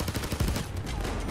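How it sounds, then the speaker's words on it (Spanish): A light machine gun rattles off a rapid, dense burst of fire in the heist video game Payday 2, its sound moderately loud and continuous over the short stretch. "Vamos a pasarnos un poco a la ametralladora ligera."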